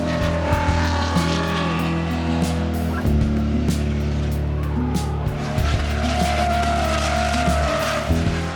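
A race car driven on a big race track while a team prepares for GLTC racing: steady loud engine roar with screeching tires throughout, and a brief shift in engine tone partway through.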